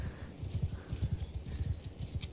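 Horse hooves in Mount and Blade 2 Bannerlord clip-clop in a steady, rapid rhythm of dull thuds, close and moderately loud, with no voices over them.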